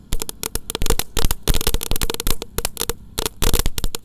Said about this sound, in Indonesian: Eksperimen menyalakan mercon di dalam bambu spesial menyambut Ramadan 2024